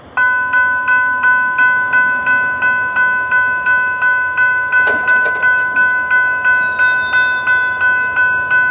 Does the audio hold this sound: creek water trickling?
no